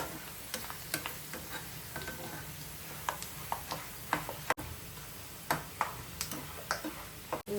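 Garlic and curry leaves crisping in hot oil, with a steady close sizzle broken by sharp pops and light clicks of stirring at irregular intervals, no voices.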